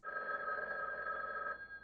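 A telephone rings steadily and loudly through a scene from the 1985 film Clue, its bright electronic trill sustained for about a second and a half before cutting off, with no voices over it.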